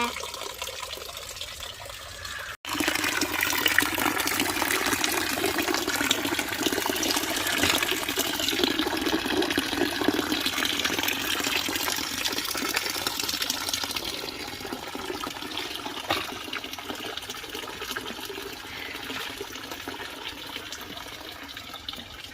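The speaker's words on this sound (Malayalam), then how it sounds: "ജലധാരാ യന്ത്രം പ്രവർത്തനം ആരംഭിച്ചിരിക്കുന്നു മൺചട്ടിയിൽ നിന്നും വെള്ളം ചാടിന് ഒച്ച" Continuous splashing rush of water falling from a clay pot garden fountain into a container, starting abruptly after a short quieter stretch and running steadily to the end.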